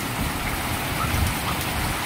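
Heavy rain pours steadily, a dense continuous hiss of drops drumming on surfaces close by, with no voices.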